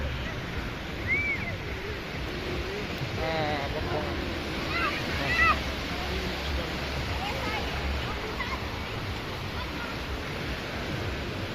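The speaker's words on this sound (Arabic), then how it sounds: "هدوء البحر" Calm sea waves wash onto a beach at night at Marsa Ben M'hidi near Tlemcen, a steady, soft, broad surf hiss under nearby people talking.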